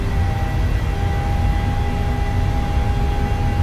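Simulated PMDG 737 jet engines at takeoff power in Microsoft Flight Simulator give a loud, steady, broadband roar with a constant tonal whine, heard alone without talking.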